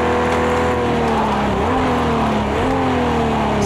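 Jaguar E-Type engine in second gear in Project CARS 2, a loud steady drone whose pitch sags and climbs again twice as the revs change, with faint tyre squeal underneath.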